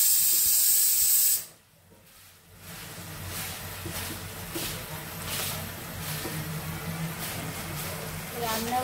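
Spices being sautéed in a home kitchen pan, a steady soft sizzle and hiss running throughout after a brief louder burst at the start, with occasional stirring scrapes.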